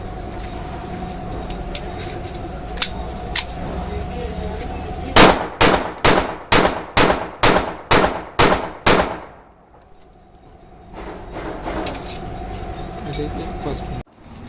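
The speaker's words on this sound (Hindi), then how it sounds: "अभी इस पर टेस्ट फायर करेंगे और आप चेक करो।" A Kimber 30 bore pistol is test fired: nine loud, sharp shots crack in quick, even succession, then a near-silent pause follows, with background hum and faint clanks before and after.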